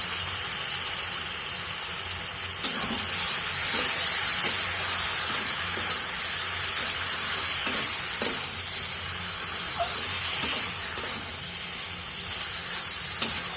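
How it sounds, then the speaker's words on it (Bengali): Pasta hits a pan of tomato ketchup that is already frying and sizzles with a steady, loud hiss. Scattered sharp clicks and scrapes from stirring punctuate the sizzle, and no one speaks. "এখন পাস্তাগুলো ঢেলে দিচ্ছি।"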